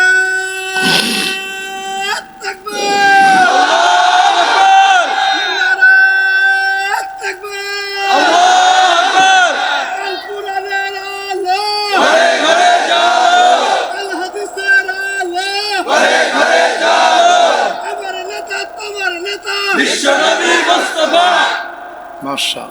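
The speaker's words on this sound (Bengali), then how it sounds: "জোরে একজন তাকবীর দেন তো দেখি।" A large crowd at a religious sermon gathering loudly chants the takbir in repeated swelling bursts of massed voices, with brief pauses between the chants.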